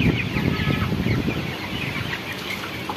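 Broiler chickens around 20 days old on a poultry farm, a dense flock clucking and murmuring steadily and close by, with overlapping calls filling the whole stretch and no voices.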